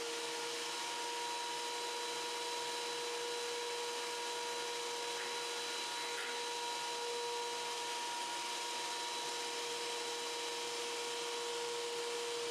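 A Wen thickness planer runs with a loud, steady whine and roar as wood pieces are fed through, the motor tone held constant throughout with no talking.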